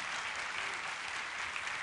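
Congregation clapping during a church service, a continuous, even patter of many hands at moderate loudness with no speech over it.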